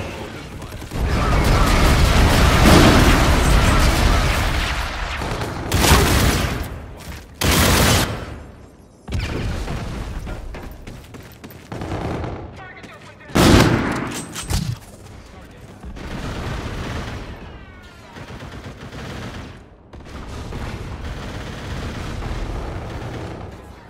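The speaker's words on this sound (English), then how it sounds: "Friendly bombardment incoming." Friendly bombardment in Call of Duty: Infinite Warfare pounds the area with a long run of loud, rolling explosions and gunfire, several sharp blasts standing out among sustained heavy rumble.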